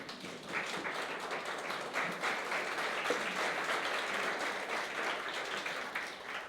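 A church congregation applauds together during a worship service, a sustained, even clatter of many hands that carries on for several seconds at moderate loudness.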